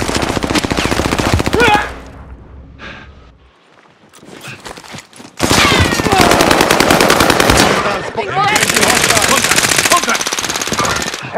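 Dense automatic gunfire from the Call of Duty Warzone Rebirth Resurgence match, loud rapid bursts at the start, a quieter gap, then sustained heavy firing with overlapping shots; a game voice speaks briefly.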